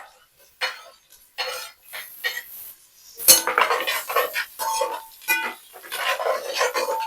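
Capsicum pieces tipped into a pan of frying onions, heard as scattered clinks of utensils and pan, a brief clatter and a run of stirring and scraping, close by with no talk.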